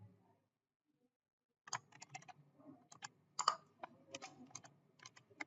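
Keys on a computer keyboard clatter in quick irregular bursts as a command is entered at a MySQL server login on Ubuntu, starting after a short silence and continuing close and clear, with no talking.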